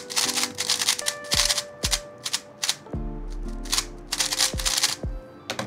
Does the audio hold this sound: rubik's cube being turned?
yes